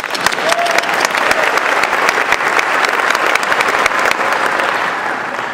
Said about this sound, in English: I want to give you at least my round of applause to start.